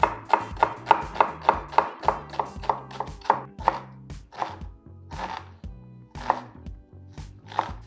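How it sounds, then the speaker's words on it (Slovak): Knife finely chopping an onion on a cutting board for Spanish bean risotto, a fast even run of crisp close thuds that slows into looser, spaced strokes toward the end. "že jednu cibulu si nakrájam na drobno."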